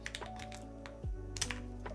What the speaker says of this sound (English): The keyboard definitely is loud